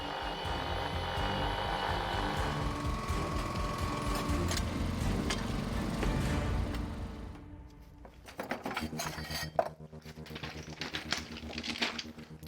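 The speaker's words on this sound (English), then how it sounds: "Then we used a weld shear that can create up to 20 tons of force to shear off the excess" A hydraulic weld shear, rated at up to 20 tons of force, cuts excess steel from the top of a thermite rail weld. A steady, loud mechanical rattle and whine runs for several seconds, then breaks into sharp metallic clanks.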